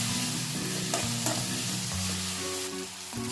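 Green chillies and curry leaves fry in a pan with a steady, close sizzle and stirring scrapes, with bright crackles breaking through now and then. No one speaks.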